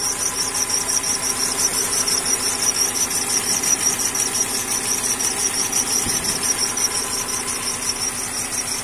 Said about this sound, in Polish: Alternator to słychać